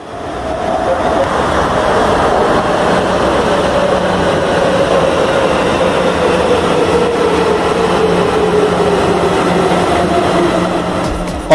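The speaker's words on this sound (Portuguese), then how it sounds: "o metrô chegando em Cajazeiras" A metro train pulls into Cajazeiras station on a new line extension, a steady loud rumble of wheels on rails with a slowly falling whine as it decelerates, continuous and close with no talk.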